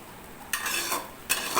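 Spicy masala Maggi noodles are stirred in a pan over a medium flame, with a low sizzle underneath and two or three louder scraping strokes of a spoon against the pan, close and without talk.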